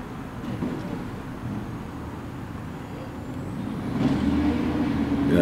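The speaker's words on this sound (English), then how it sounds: "it's nothing more than a garbage truck down there" A garbage truck rumbles nearby in Laughlin, Nevada, a steady low engine drone with faint hissing that grows louder and busier toward the end as the truck works.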